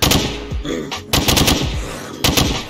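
A gun in the game Unturned fires three loud, close bursts of rapid automatic shots. Short gaps separate the bursts, and each one rings out with a booming tail.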